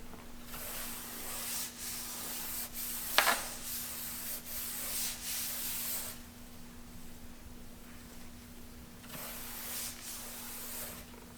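A hand or pad is rubbed across the paint of an Audi R8 RWS that is rough with heavy overspray. It makes soft, raspy sanding strokes in repeated passes over a steady low hum, with one sharp scrape partway through.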